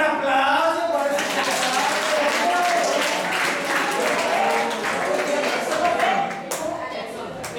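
An audience at a lecture for teenagers breaks into sustained applause, a dense wash of clapping lasting several seconds that thins slightly toward the end.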